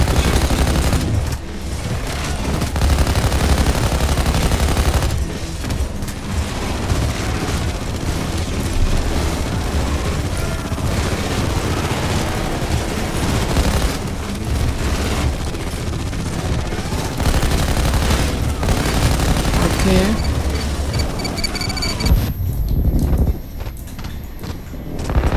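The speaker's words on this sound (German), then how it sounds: "da schießt eins und das nicht für mich" Sustained gunfire in PayDay 2 during a slaughterhouse mission, dense rapid volleys filling the mix with loud continuous rattling that thins out near the end.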